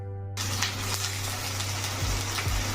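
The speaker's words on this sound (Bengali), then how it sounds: "রিফাইন তেলটা গরম হয়ে উঠছে তখন কপিগুলোকে এর মধ্যে ঢেলে দিয়েছি, আর কপিগুলোকে একদম মানে ছ্যাক পোড়া করে ভেজে নেব" Cauliflower pieces frying in hot refined oil in a wok, a sudden steady sizzle that starts after a brief silence, with a low hum beneath and a couple of soft stirring knocks, close and fairly loud.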